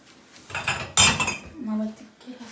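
Tea glasses and dishes clinking and knocking together as they are set out for tea in a home kitchen, a cluster of sharp close clatters with a brief low hum after.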